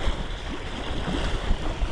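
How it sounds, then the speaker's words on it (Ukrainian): Strong wind buffeting a microphone outdoors while fishing, gusty low rumbles rising and falling over a constant roar, with water lapping faintly beneath. "Дуже сильний вітер роздувся"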